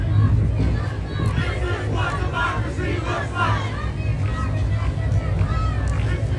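A large protest crowd fills a Los Angeles street with a continuous babble of voices and scattered shouts, heard under a reporter speaking.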